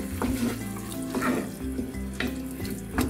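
Paprika and white beans sizzle in a pot with the heat just switched off, a steady close frying hiss broken by a few soft stirring scrapes.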